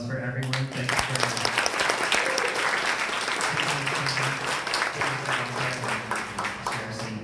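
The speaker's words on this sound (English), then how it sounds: "Let's just have one more round of applause for everyone." Audience applause at a tech launch celebration, a sustained wash of clapping from a roomful of people, steady and moderately close, with some voices mixed in.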